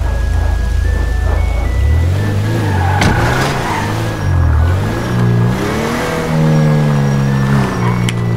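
A car in a video game accelerates and revs through laps around a driving school course, the engine note climbing and falling steadily with gear changes, loud and continuous with no talk.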